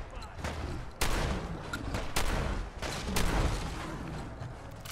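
Video game gunfire in Fallout 4 aimed at a creature's leg: a few sharp, loud shots spaced about a second apart, with a rough rumbling bed of combat noise between them.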